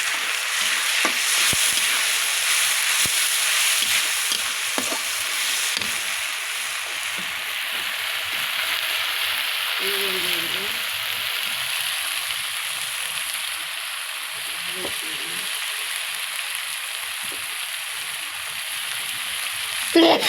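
Onion, garlic, cumin and garam masala frying in a pan for a home-style fish curry, giving a loud, continuous hissing sizzle with a few stirring scrapes and clicks, close up and without speech.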